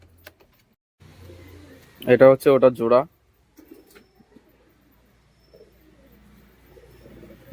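Breeding-pair pigeons kept as homing stock give a close, loud run of about five rhythmic throaty coos lasting roughly a second, with someone speaking quietly before and after.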